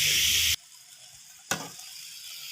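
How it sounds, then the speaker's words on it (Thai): Vegetables stir-fry in a hot pan for a Thai shrimp basil dish, with a loud sizzling hiss that cuts out abruptly and then bursts back in, continuing steadily. "ผัดผักให้สุกนิดนึงก่อนนะคะ"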